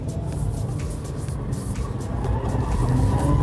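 Mini John Cooper Works F56 hatchback driving at speed, engine and road noise rising steadily with broadband tyre and wind rush throughout.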